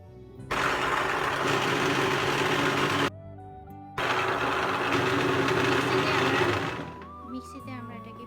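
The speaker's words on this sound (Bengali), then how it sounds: "মিক্সিতে আমরা এটাকে পিষে নিলাম সুন্দর করে।" An electric mixer grinder whirs loudly, blending mint, coriander, green mango, green chilli, salt and sugar into chutney, running in two steady bursts with a short pause between, then winding down to a fading hum.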